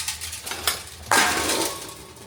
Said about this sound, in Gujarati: ચાનું તપેલું કાઢવું પડશે.